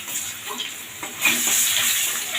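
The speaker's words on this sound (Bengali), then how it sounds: "আলুটা একটু ভেজে নেবো এই তেলের ওপরে" Thin potato slices frying in hot oil over black cumin seasoning, a steady broadband sizzle that grows louder and denser about halfway through as the slices hit the pan.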